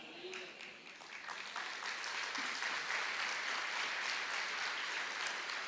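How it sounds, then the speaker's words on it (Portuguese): A church congregation applauds during a sermon, the clapping starting a little scattered and building into a dense, steady roar from many hands, heard from within the hall. "Pode aplaudir com mais força."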